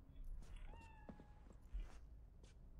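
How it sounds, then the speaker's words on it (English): A cat in the video game Cyberpunk gives a couple of short, quiet meows over a low ambient hum, with no speech. "You hear the cat, we found the cat as well."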